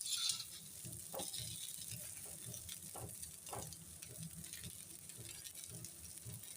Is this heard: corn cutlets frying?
yes